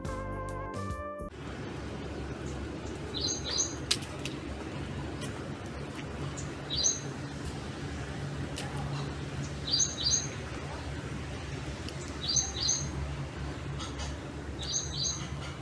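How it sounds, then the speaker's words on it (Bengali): Forest ambience in Tadoba tiger reserve with a steady low background and short, high bird chirps repeating every few seconds, faint and fairly distant, no talk. "পাখির কলকাকলিতে চারিদিক মুখর"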